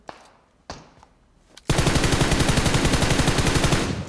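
Gunfire in PUBG Mobile: a few isolated single shots, then a sustained rapid automatic burst that rattles on loudly to the end.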